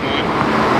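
Chevrolet Camaro ZL1 passing on the street during the Woodward Dream Cruise, a steady close engine roar mixed with road and traffic noise across the whole short moment.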